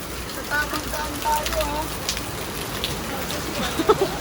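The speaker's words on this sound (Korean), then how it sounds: "거의 비가 퍼붓습니다." Heavy rain pours during a trip in the Philippines, and water flows in a steady broadband hiss. Voices can be heard talking faintly over it.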